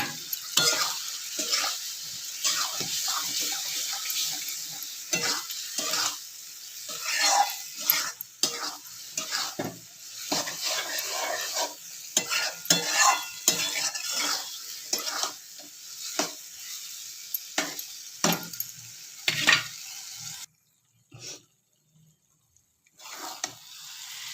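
Curry masala and potatoes are stir-fried in a pan for an egg and potato curry, with repeated scraping stirs over a constant sizzle that cut off abruptly near the end.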